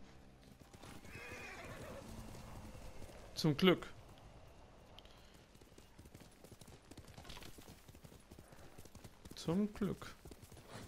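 Horse hooves and whinnying in the video game Ghost of Tsushima, steady clip-clop running through with two louder neighing bursts, while someone talks over the game sounds.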